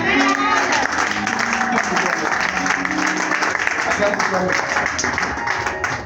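At a church service, an audience applauds in a dense, sustained wash of clapping mixed with crowd voices, loud and continuous throughout.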